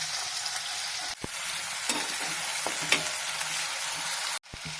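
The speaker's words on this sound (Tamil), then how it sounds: "வெங்காயம் போட்டு நல்லா வதக்கிக்கலாம்." Onions sautéing with garlic in a pan for brinjal kootu, giving a steady close sizzle with a few clinks and stirring scrapes, and two brief breaks in the hiss.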